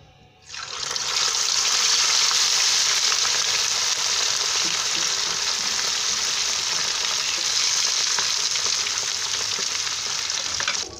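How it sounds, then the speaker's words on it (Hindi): Dola fish frying in oil, a loud, dense, continuous hiss that starts abruptly and holds steady close by until it cuts off at the end, no talking. "दूसरी मछली भी हमारी फ्राई हो गई है।"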